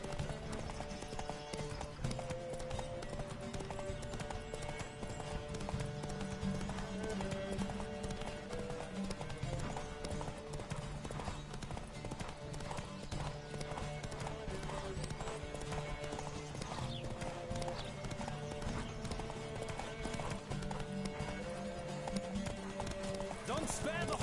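Galloping horse hooves in the video game The Witcher 3 Wild Hunt, rapid rhythmic clip-clop pounding continuously under game music and voices during a race.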